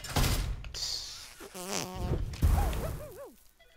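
Fart sounds in the video game South Park: Stick of Truth, several buzzy, sputtering blasts of varying pitch in quick succession, close and fairly loud, with some wavering tonal squeaks.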